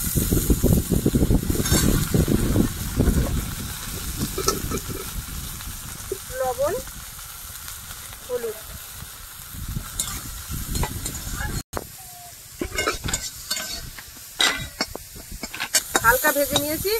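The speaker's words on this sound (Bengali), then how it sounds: "তেলের মধ্যে একটু পেঁয়াজ কুচি আর কাঁচা লঙ্কা দেবো, এগুলো একটু ভেজে নিয়েছি" Dried shrimp frying in oil with chopped onion and green chili, a dense steady sizzle under repeated stirring and scraping in the pan, close, with a person talking over it at times.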